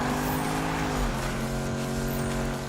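A Ford Mustang engine in Need for Speed (2015) accelerating during drifts, a loud steady droning roar with rising and shifting harmonic tones, close and continuous with no talk.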